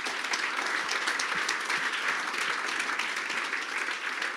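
Conference audience at a Zurich front-end lightning-talks event applauding steadily, a dense, even wash of many hands clapping with no talk over it.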